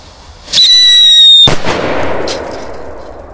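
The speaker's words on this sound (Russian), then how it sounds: "Такие будут большие петарды." A high whistle rises briefly, then a single loud, sharp bang from a large firecracker follows, trailing off into a noisy, crackling decay.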